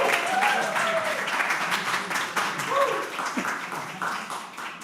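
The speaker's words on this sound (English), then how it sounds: "A word of thanks and applause" An audience at a church annual meeting claps in thanks, a dense burst of applause that starts full and slowly thins, with a few voices mixed in beneath it.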